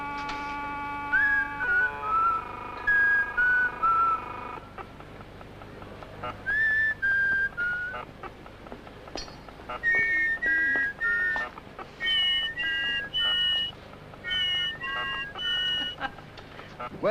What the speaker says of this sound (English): Whistle at it.